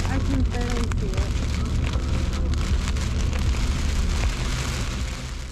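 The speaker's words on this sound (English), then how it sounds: "Just before we arrived at our destination, it had rained like it was Niagara Falls" Heavy rain pours down in Vermont on an overlanding trip, a dense steady roar of water beating on a surface, loud and close, with voices briefly audible under the downpour.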